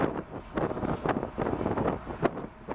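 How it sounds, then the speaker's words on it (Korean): Steady rushing wind noise fills the cabin of a Mercedes-Benz SLK 200 BlueEFFICIENCY driven at high speed, a broad continuous roar with gusty swells and no voices. "바람 소리가 제법 실내로 들어왔지요"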